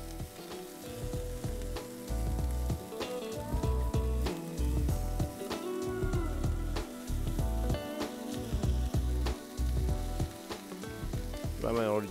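Onion cooking in oil in a pan sizzles softly and steadily, with faint crackling under background music and no talking.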